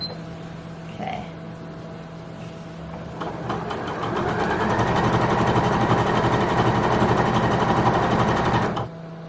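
A sewing machine stitching a dress ruffle, its rapid mechanical chatter rising in after a few seconds of quieter hum and running steadily close by for several seconds before stopping abruptly.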